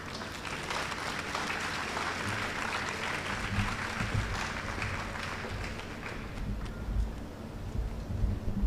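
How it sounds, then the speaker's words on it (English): An audience at a University of the West Indies matriculation and welcome ceremony claps steadily, a dense, sustained roar of applause from a large crowd with no pause. "Give the Vice Chancellor another round of applause"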